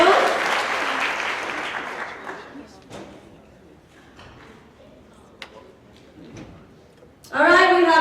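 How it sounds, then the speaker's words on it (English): Audience applause at a company monthly staff celebration, loud clapping that fades out over a few seconds, then a quiet room with scattered taps before a voice starts talking. "let's make some noise for Katie Walden with 4 years in our inside"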